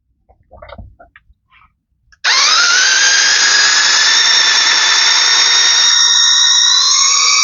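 Electric rear wheel motor of a remote control motorbike spinning up: after a few faint clicks and handling noises, a sudden loud high-pitched whine starts and holds steady, its tone shifting slightly near the end.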